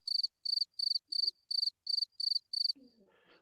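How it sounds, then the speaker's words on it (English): A cricket chirps in eight evenly spaced, shrill pulsing bursts, clear and close against near silence, followed by a faint rustle. "This is all these guys heard when they broke in. Fucking crickets."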